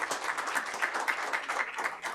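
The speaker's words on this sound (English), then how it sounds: "Round of applause again for Eylül." Brief, fairly quiet applause from a summit audience, a soft patter of many hands clapping at a distance for a couple of seconds.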